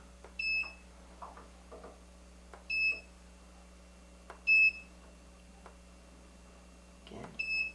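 Short electronic beeps from a quilting machine repeat at irregular intervals, high and clear, over a low steady hum.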